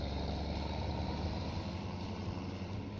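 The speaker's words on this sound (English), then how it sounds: "Too busy watching the lovely tractor go by" A tractor in the Farming Simulator 17 game drives past as a steady, low droning engine rumble that holds at an even level with no talking over it.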